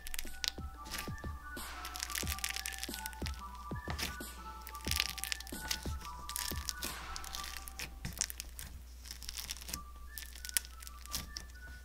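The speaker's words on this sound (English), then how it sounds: "this is a super crunchy slime, so just listen" Thick, milky, creamy-based crunchy slime squished by hand, giving a continuous run of close, sharp crackling pops and crunchy snaps with no talking.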